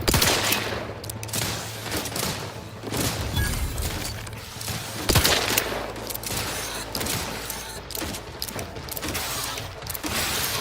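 Rapid gunfire and mechanical clatter from The Outer Worlds 2 video game as crabbles are shot, loud dense bursts of shots with ratcheting weapon noises continuing throughout.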